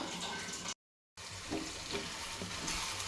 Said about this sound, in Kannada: ಫ್ರೈ ಆಗ್ತಾ ಇದೆ. ಒಂದು 5 ನಿಮಿಷ ಲಿಡ್ನ ಕ್ಲೋಸ್ ಮಾಡಿ ನೀಟಾಗಿ ಫ್ರೈ ಮಾಡ್ಕೊಳ್ಳೋಣ.